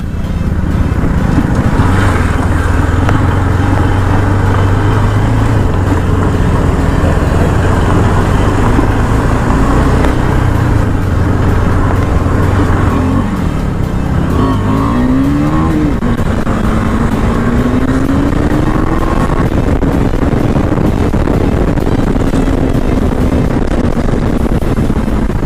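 A KTM Adventure 390 motorcycle is ridden on open road, its engine droning loudly and steadily throughout, with pitch rising and falling through gear changes and revs near the middle.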